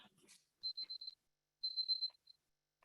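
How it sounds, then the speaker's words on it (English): A timer is set for three minutes: two runs of quick, high electronic beeps, the first a short broken series and the second a longer trill, faint and close in an otherwise quiet room. "let me get my timer going for 3 minutes."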